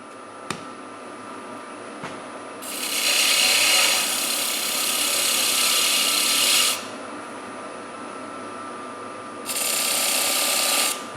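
A power sander works a wooden bowl through successive grits, a loud, bright whirring grind running for about four seconds, a quieter pause with motor hum, then another shorter burst of sanding.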